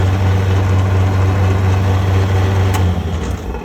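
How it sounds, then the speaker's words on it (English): An old Sioux valve grinder runs in a shop with its motor-driven grinding head, giving a steady, loud mechanical hum and drone that holds evenly throughout with no talking. "How about this for an old Sioux valve grinder?"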